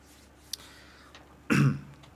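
A man on a Thai talk program clears his throat once with a loud, close, rough rasp lasting about a quarter second, after a quiet stretch with small faint sounds and no talking.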